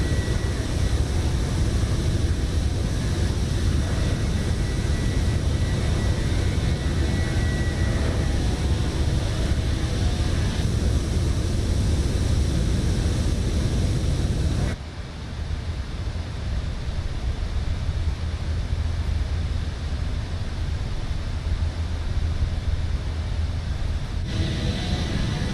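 An airliner climbs after takeoff from Makassar in Microsoft Flight Simulator, a steady, loud broadband engine and air roar that continues unbroken, dips slightly partway through, and carries no speech.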